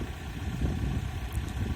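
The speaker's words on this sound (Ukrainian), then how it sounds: "Мотор." A Volkswagen Crafter van engine with about 290,000 km on it idles close by, giving a steady low rumble and mechanical hum that holds even throughout, with no voices.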